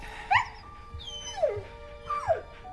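A dog whines and whimpers in several high, falling cries spread through the clip, with a short yip or bark mixed in, close and fairly loud over a quiet outdoor background.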